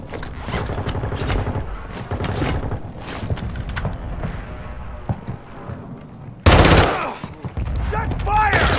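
Video game gunfire plays as rapid automatic bursts and single shots, loud and close, with a sharp burst near the end and brief voices over the action.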